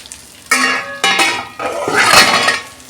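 A metal lid lifted off a frying pan of spice-coated fish, with loud clanks and clatters of the lid and pan, followed by a burst of sizzling as the fish fries.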